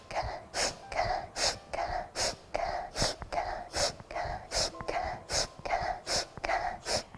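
Rhythmic, close breathing during a breathing exercise: about a dozen sharp, forceful breaths in a steady, regular pattern.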